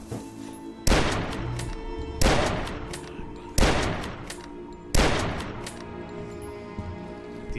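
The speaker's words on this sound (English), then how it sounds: "And our new weapon is the hunting rifle." Four powerful hunting rifle shots in the video game Dusk, spaced roughly evenly, each a loud, booming crack that rings out and fades slowly before the next.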